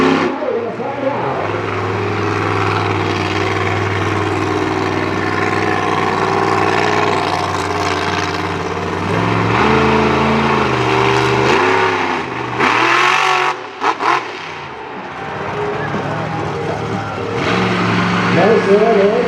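Monster truck engine revving loudly during a show run at a Renegade Monster Trucks event in Franklin, PA, a sustained roar with rising and falling revs, briefly cutting out before surging again, with an announcer talking over it.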